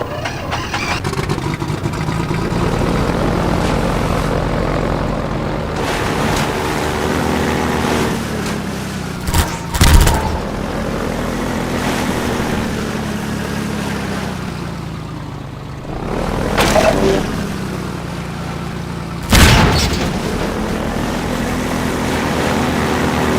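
Helicopter gunship in Half-Life 2 flying a bombing run, its rotor and engine droning steadily while a rapid string of bomb blasts bursts out in heavy thumps around 10, 17 and 20 seconds.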